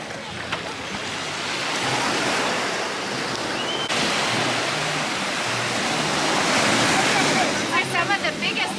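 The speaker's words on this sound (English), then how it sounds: "Some of the biggest waves I've ever seen on this beach before." Big ocean waves at Playa Buye beach in Cabo Rojo, Puerto Rico, crashing and washing continuously, a loud sustained surf roar with surges, alone without talk.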